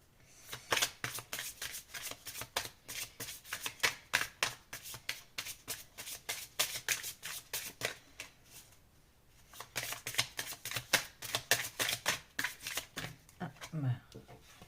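Oracle cards being shuffled and drawn up close, with rapid repeated riffling bursts in two runs separated by a short pause and soft card handling at the end, under quiet talk.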